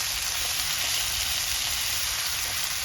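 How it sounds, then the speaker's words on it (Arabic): Onions sauté in a hot pan after potatoes were fried in it, a loud, continuous, close sizzle with a faint crackle and no pauses. "نشوح البصل كده"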